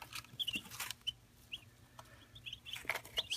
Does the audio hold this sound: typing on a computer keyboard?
no